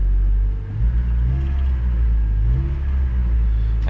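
A 1997 Toyota Tacoma's 2RZ-FE engine running after repair, a loud, close, low idle rumble with slight dips and swells, no voices over it.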